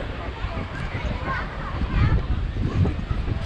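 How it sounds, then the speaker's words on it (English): Gusty wind on Hac Sa black sand beach in Macau buffets the microphone with a low, rough roar that swells and fades, steady throughout and close. "And it looks like a really windy day."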